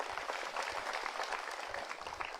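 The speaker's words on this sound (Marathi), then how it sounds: "टाळ्या वाजवून अभिनंदन करू" Crowd at an outdoor political rally in Karanjgavhan breaking into applause, a dense steady patter of many hands clapping at moderate distance, fairly faint and continuous.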